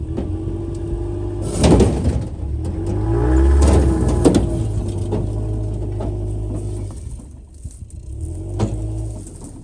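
Apache pickup truck being moved out of its spot, its engine rumbling and revving with a few clunks and knocks of the vehicle shifting, heard up close without speech.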